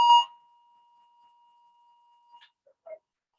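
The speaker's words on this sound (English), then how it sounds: "Attention residents, we have investigated the alarm and it is a false alarm." A building fire alarm in a residential building sounds a loud, sharp burst with a steady tone trailing on, then a few faint blips near the end, with no talk over it.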